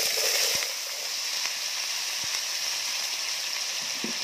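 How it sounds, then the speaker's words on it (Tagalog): Potatoes sizzle in hot cooking oil in a pan, a steady bright hiss with faint crackles and pops running the whole time, close and fairly even in loudness. "Iprito natin siya."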